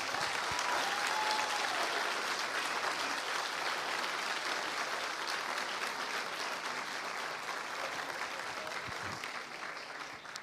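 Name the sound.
audience applause at a master's graduation ceremony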